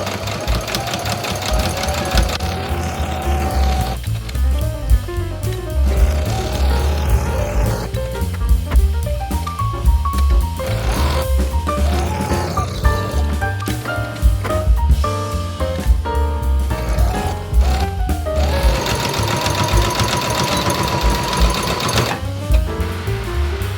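A sewing machine stitches project bags in quick mechanical bursts, whirring runs broken by short pauses, close and clear with no talk over it.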